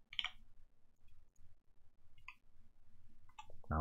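Faint, sparse computer mouse clicks while operating Autodesk Inventor 2020 CAD software, a few isolated clicks spread over a quiet background.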